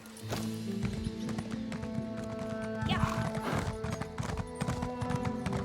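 Steady clip-clop of horse hooves in a regular trotting rhythm in the video game Elder Scrolls Online, close and continuous, with a brief snort or whinny partway through over a background music bed.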